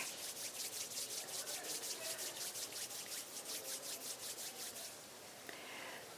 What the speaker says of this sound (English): bring the palms of your hands together in namaste at chest level and rub them gently against each other